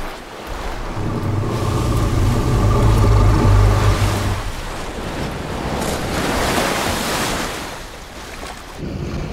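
Sea waves breaking on a shore, a loud rushing surge that swells, recedes and builds again over several seconds, mixed with wind noise and a low rumble.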